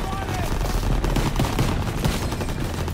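Steady, dense gunfire from the Call of Duty WWII video game, with rapid overlapping shots and bursts running the whole time at a fairly loud level.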